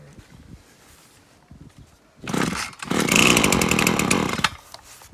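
A string trimmer (weed eater) engine is pull-started and sputters briefly, a loud close ratcheting burst followed by a couple of seconds of rough revving that dies away.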